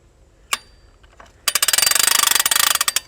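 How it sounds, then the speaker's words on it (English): After a couple of isolated clunks, a boat trailer winch is cranked, giving a loud, rapid metallic ratcheting clatter in an even rhythm, close by, with no talking. "I like the simplicity of this winch though. It has a very nice industrial sound."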